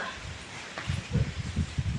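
A small dog at home gives short, low yips and whimpering barks in a quick irregular series, close by, with faint rustling.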